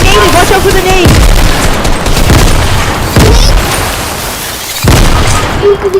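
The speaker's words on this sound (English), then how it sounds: "He naded. Watch out for the nade." Grenade blasts in an online shooter game during a live stream, several loud booming explosions with sharp onsets and decaying rumbles, spaced unevenly among other gunfire and game noise, with voices in the background.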